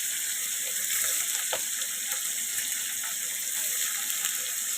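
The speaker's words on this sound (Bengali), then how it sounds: "আমি এখন পনিরটা আমি ফ্রাই করে নিব, হালকা ফ্রাই করব, হালকা ফ্রাই করে নিব পনিরটা" Paneer lightly frying in a pan makes a constant, bright, hissing sizzle at close range, even and unbroken for several seconds with only faint pops.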